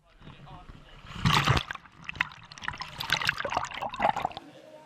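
Children splash and move through water during a swimming lesson in an indoor pool, with irregular splashes and trickles rising and falling, mixed with children's voices and echoey chatter.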